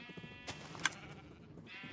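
Minecraft sheep bleat, a single short synthetic bleat around the midpoint over a faint background hum, with a softer tonal sound near the end.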